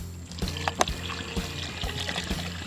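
Water glugs and trickles as a gallon is poured into a bag of turkey brine, a steady close pour with a few sharper splashes, no talking.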